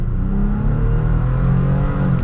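A 2018 Toyota Tacoma TRD Pro pickup accelerating hard, its engine giving a loud, steady, rising roar that stays close and continuous for a couple of seconds.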